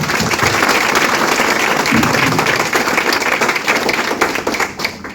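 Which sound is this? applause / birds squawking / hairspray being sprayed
applause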